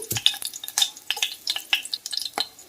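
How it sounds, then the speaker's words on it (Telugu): Garlic dropped into hot oil for a tempering sizzles briskly while being stirred, with scattered metallic scrapes and clicks from the pan, close and moderately loud, with no talking. "సో వెల్లుల్లిపాయలు అయితే వేస్తున్నాను తాలింపుకి."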